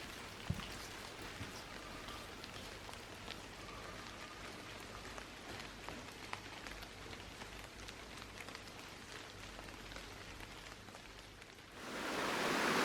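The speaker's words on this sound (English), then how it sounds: "As you can hear, there's a waterfall down to my left hand side." A small waterfall in a rain-soaked quarry gives a faint, constant hiss of rushing water with steady splashing texture and no voices, swelling slightly louder near the end.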